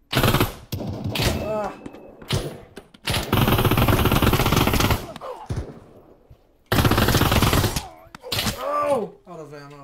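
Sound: gunfire from the VR video game Pavlov

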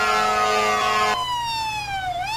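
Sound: fire truck siren in GTA 5 video game

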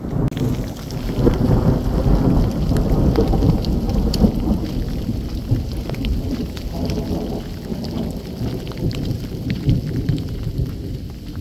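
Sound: heavy rain downpour with thunder on a trek

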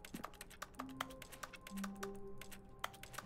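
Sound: person imitating computer keyboard typing sounds with mouth

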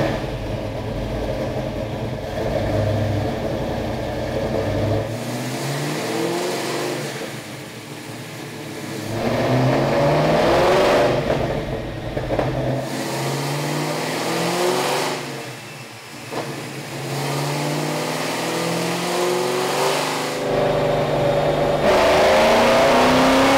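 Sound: 393ci Windsor stroker Fox Body Mustang engine revving on dyno

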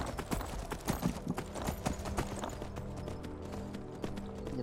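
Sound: horse hooves galloping in a video game

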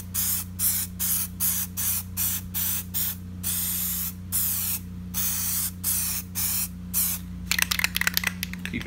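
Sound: spraying Plasti Dip aerosol onto Mustang emblems

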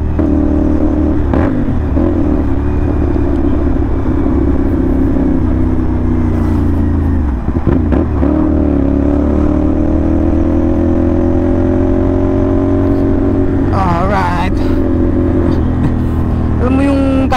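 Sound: CFMoto NK450 motorcycle revving with SC Project copy exhaust

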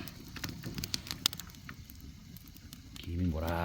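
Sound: wood fire burning under a pot

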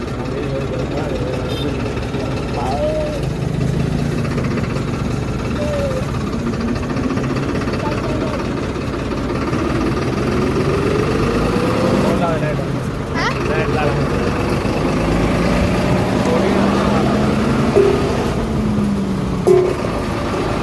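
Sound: motor engine running in a paddy field

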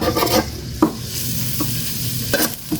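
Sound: stir-frying chopped garlic and chili in a hot pan

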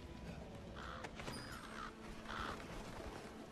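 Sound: crows cawing in video game

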